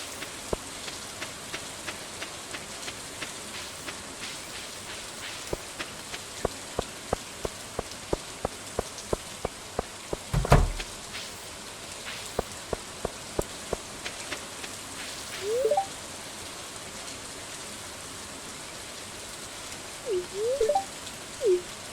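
Rain in the farming game Stardew Valley Expanded, a soft continuous patter with scattered sharper drop ticks, a brief thump midway and a few faint chirps near the end.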